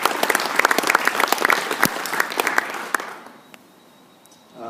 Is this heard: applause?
yes